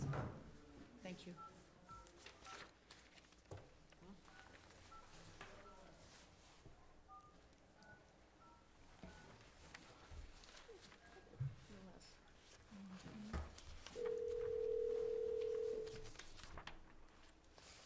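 A phone line is dialed during a town council meeting: faint tones lead into a steady dial tone lasting about two seconds, with room noise around it.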